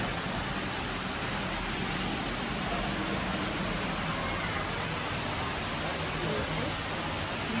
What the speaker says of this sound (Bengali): বাট এখানে প্রচণ্ড ঝড় বৃষ্টি হচ্ছে।